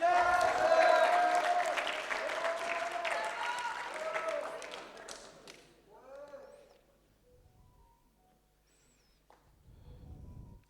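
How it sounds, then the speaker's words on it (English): Applause for graduates at a school graduation ceremony, a crowd clapping loudly at first then thinning and fading out over several seconds, with a voice speaking briefly over it. "A round of applause for our graduates."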